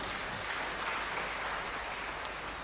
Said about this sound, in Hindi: आप लोग अपने लिए एक जबरदस्त ताली बजा लीजिए